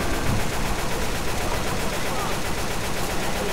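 Dense, continuous gunfire in the video game Left 4 Dead 2 as several players shoot at a Tank, loud rapid bursts blending into a steady barrage across the whole moment with no talk.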